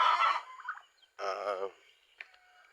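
Two bursts of turkey gobbling on a farm, a rapid warbling call followed by a second shorter gobble, then a faint brief cluck near the end.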